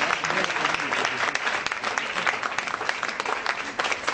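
Sustained applause from an audience at a diploma ceremony, given as an ovation for a minister, dense and even throughout with voices mixed in.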